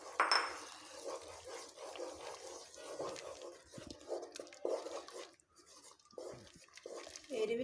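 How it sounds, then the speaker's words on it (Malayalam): A spoon stirs cornflour slurry into a pot of restaurant-style chicken soup, giving soft scraping and intermittent light metal clinks against the pot, close and fairly quiet. "എന്നിട്ട് കൈ എടുക്കാതെ ഒന്ന് മിക്സ് ചെയ്തെടുക്കാം."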